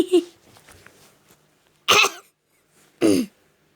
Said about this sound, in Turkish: Ay galiba beni öksürük tuttu ya.